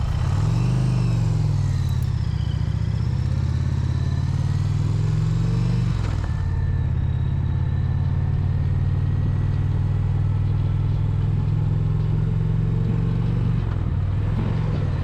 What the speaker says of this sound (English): going to ease the clutch out in the friction zone. You'll be able to hear it on the engine.